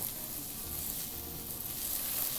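Onions sizzle steadily in beef tallow in a pan for Miyazaki beef sukiyaki. The frying makes an even, continuous hiss close by with no talk over it.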